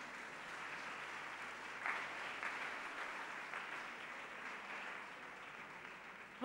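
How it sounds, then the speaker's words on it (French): A faint, distant round of applause from a seated audience at a French-speaking Christian gathering, steady and even for several seconds, with a slight swell partway through and no talking. "Applaudissons-le."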